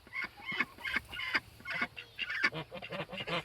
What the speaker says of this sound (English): Poor Goose, she does not look happy